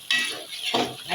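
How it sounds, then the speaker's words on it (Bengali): Onions being sautéed over low heat in a pan for a spicy homemade mutton curry, with a spatula scraping and stirring in a few close bursts against a soft sizzle. "পেঁয়াজটাকে কষাইতে হবে।"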